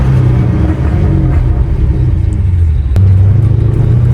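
A cammed LS2 V8 in a Pontiac GTO with 3.70 rear gears, out driving on the road, gives off a loud, steady, deep engine rumble with a throaty low drone that swells briefly partway through.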